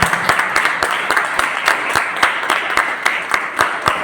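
Audience at an open meeting in Punjab, India applauding to welcome speakers, a crowd's steady clapping with a clear repeating rhythmic beat of sharp claps riding over it, fairly loud and close.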